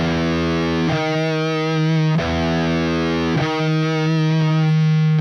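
Distorted metal electric guitar playing a major seventh interval, three loud sustained strikes in even succession with a tense, grinding ring and no voices.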